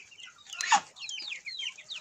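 Farmyard hens cluck in a short, close burst of overlapping calls, with one louder squawk at the peak and no voices.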